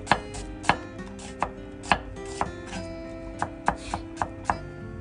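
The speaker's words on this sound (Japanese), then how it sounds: "で、玉ねぎは薄切りです。" A knife thinly slicing onion on a cutting board: about fifteen crisp, close knocks in a loose, uneven rhythm, loud and alone with no talk.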